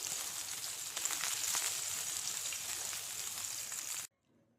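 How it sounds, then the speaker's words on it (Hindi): Chicken seekh kebabs fry in a pan with a steady, dense sizzle that runs close and loud, then stops abruptly near the end, leaving near silence. "शीख हमारे देखिए कितने अच्छे से फ्राई हो रहे हैं"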